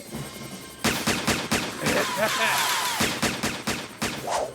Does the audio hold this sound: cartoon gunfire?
yes